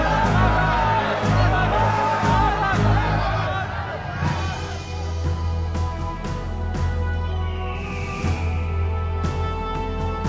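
An angry crowd shouts and clamors for a death sentence, a dense hubbub of raised voices and whoops that swells loudly at first, then eases into lower murmuring babble under steady background sound.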